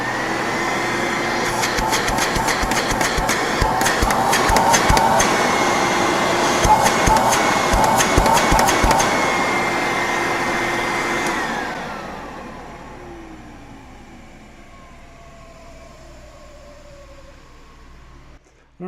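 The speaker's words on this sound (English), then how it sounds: "I'll turn it on and off again one more time." A 1970s Brother vacuum cleaner running with a steady roar and a high whine from dry bearings, a few rapid clicks near the start, then switched off so the motor winds down with a falling pitch into near silence.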